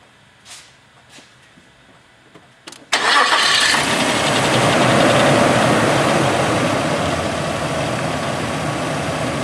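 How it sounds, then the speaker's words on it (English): A few faint clicks come first, then a 2000 Nissan Xterra engine cranks and catches. It settles into a steady, loud idle that continues to the end. "And then the next thing is to start the engine."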